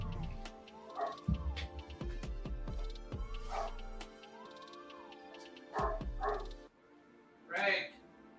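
A dog barks a few times from some distance below, short yips standing out over a steady background hum and intermittent talk.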